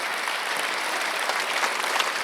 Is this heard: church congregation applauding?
yes